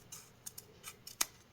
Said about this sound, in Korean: 그러면 여기서 이거를 접어야 되기 때문에 너무 길면 안 돼서 이거를 이제 이 정도 잘라줍니다.